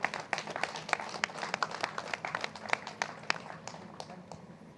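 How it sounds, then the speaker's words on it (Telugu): Audience applauding for Gandhi at a rally gathering: a steady patter of many hands clapping with sharp individual claps standing out, somewhat distant and fading slightly toward the end, with no talking. "ఆయన కోసం గట్టి క్లాప్స్ కొడదాం."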